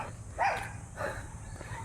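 A dog barks twice, not very close, with a low steady background hum, on a rural walk near a forest in Bohol.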